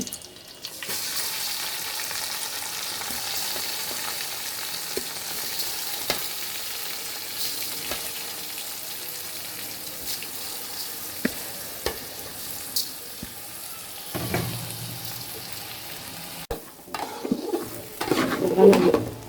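Rice frying in a pan with browned fried onions, a steady soft sizzle with occasional stirring scrapes and clinks of a spoon against the pan, fairly quiet and close.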